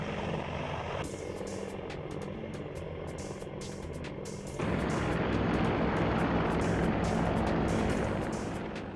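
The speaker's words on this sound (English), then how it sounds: "the helicopter takes to the air, demonstrating breathtaking maneuvers" AH-64 helicopter flying and maneuvering during test flights, a dense rotor and turbine roar that swells louder midway, with rapid rhythmic blade chopping above a broad rumble.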